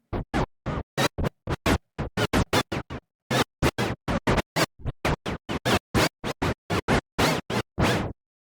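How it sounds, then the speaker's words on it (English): Rapid, rhythmic DJ scratch effects from the FL Studio Scratcher plugin, a long run of sharp back-and-forth swipes with brief gaps between bursts, loud and alone without any talking. "scratching effects,"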